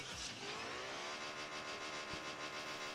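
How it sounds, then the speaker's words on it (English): A car engine in a Rocket League match revs and roars steadily, its pitch rising and holding in a throaty, continuous drone at moderate volume with no talking. "A meaty engine sound."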